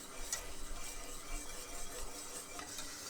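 Spoon stirring a white sauce of milk, flour and butter in a pan, a faint continuous soft scraping and swishing with light sizzle, close and quiet with no talk.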